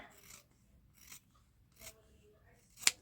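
Scissors snip material for a wristlet purse craft, giving a few quiet, separate cuts spaced apart and then one sharp, louder snip near the end, close by in a quiet room.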